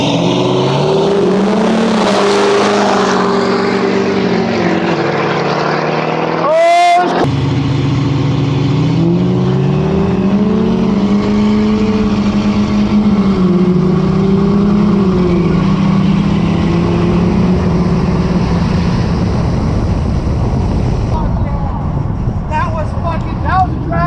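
Diesel pickup trucks, a Duramax L5P and a 6.7 Powerstroke, in a drag race, loud engines droning and revving with shifting pitch as they accelerate, heard from close range under continuous talk.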